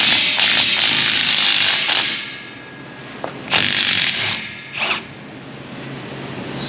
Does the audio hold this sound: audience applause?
no